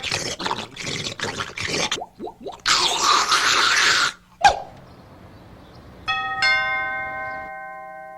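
Assorted clattering and splashy household noises stop, then a doorbell chimes clearly and its ringing tone fades away.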